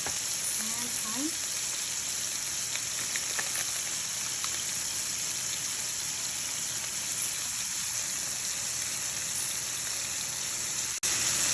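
Tomatoes sauté in oil with salt, pepper and thyme, giving a loud, even frying hiss that runs steadily throughout with a few faint clicks.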